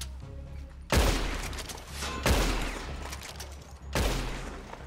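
Gunfire in the video game Red Dead Online, three heavy booming volleys about a second and a half apart, loud and close with no talk over them.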